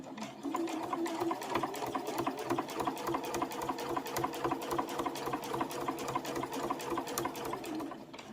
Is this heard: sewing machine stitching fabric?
yes